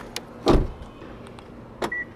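Keyless entry on a 2013 Kia Optima Hybrid LX: two short mechanical door-lock actuations, each a quick clunk and whir, separated by a second of quiet, followed by a brief faint electronic chirp.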